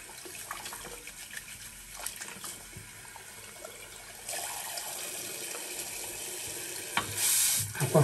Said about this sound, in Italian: Acqua fredda chiaramente, per il viso.